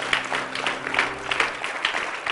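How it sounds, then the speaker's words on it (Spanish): Strong applause from a church congregation giving praise to Jesus, a dense, steady clapping that fills the room for a couple of seconds. "Dale un aplauso fuerte a nuestro Señor Jesús"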